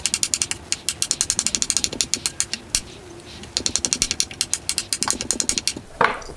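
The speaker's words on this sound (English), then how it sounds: "I have a few Marsala mushrooms that I'm just gonna chop into a little bit smaller" A knife chops Marsala mushrooms into small pieces on a cutting board, with rapid, evenly spaced, crisp taps close to the microphone that run in quick bursts, pause briefly, then resume at a steady rhythm.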